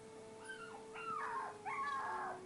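A puppy whimpers in a string of high, wavering whines rising and falling over a few seconds, close and fairly quiet against a faint steady hum, with no voices.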